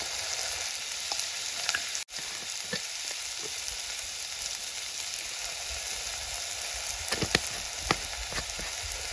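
Eggs frying in a pan with masala spices, mustard powder and turmeric, a steady close sizzle with small crackles and pops throughout and a brief cut near the start.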